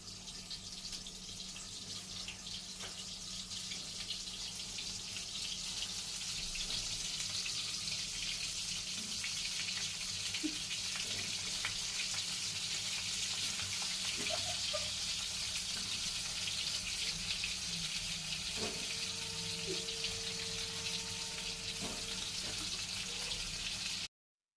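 Stuffed brinjals frying in hot oil, a faint continuous hiss and crackle with occasional small pops, steady and unbroken throughout.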